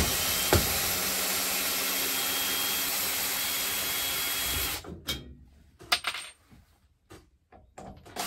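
Power drill backing screws out of the thin wood mounting of an RV microwave, a loud continuous whirring hum for several seconds, then stopping, followed by scattered clatters and handling knocks.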